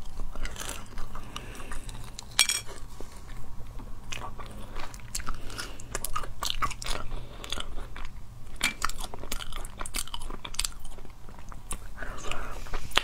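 Close, crunchy bites and wet chewing of a seedy, sweet-sour dried-fruit-like snack, recorded ASMR-style, with a steady run of small crackles and munches and no talking.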